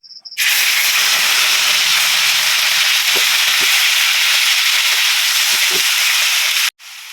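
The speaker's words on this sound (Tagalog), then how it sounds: "Ready na itong tocino na ating pipiprito." Tocino hits hot oil in a pan and sets off a loud, steady sizzle that starts abruptly and runs unbroken for several seconds before cutting off briefly near the end.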